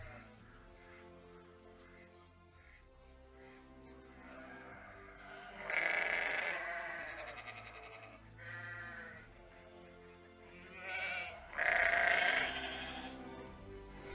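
A flock of sheep and goats bleat in overlapping bursts, loud and close, with quieter stretches between the louder calls.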